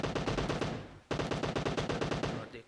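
Rapid automatic gunfire in the PUBG battle royale game on the Erangal map, two loud sustained bursts of evenly spaced shots separated by a brief pause, the second burst trailing off.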